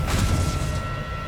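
Confringo fire-blast spell detonating in Hogwarts Legacy, a single heavy booming burst that rolls out and slowly decays over about a second, loud and close with no talking.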